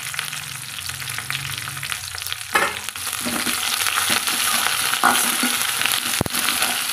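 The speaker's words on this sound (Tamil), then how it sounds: "கருவேப்பிலை சேர்த்து வதக்கிக்கலாங்க" Curry leaves sauté in a pan with a bright, crackling sizzle that swells after a stir midway. Spatula scrapes and a sharp knock punctuate the frying.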